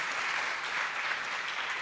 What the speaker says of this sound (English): let's give a round of applause to our 2 speakers for the night, Chris and Andrew.